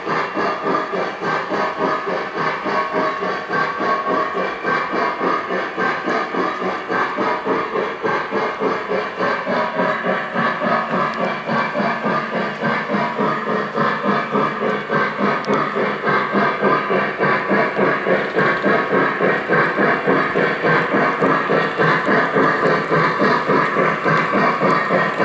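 A Lionel Milwaukee Road 261 model steam locomotive runs continuously with a rapid, even chuffing rhythm and a dense mechanical clatter, loud and close, with no talking.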